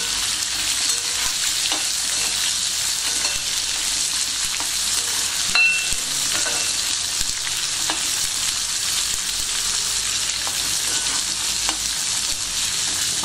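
Small onions frying in oil for tomato chutney give a loud, constant hiss and crackle up close, with a few faint clicks and taps scattered through it and no voices.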